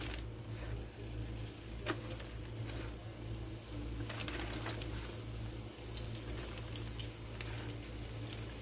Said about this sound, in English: we're gonna drop them into our oil for our petals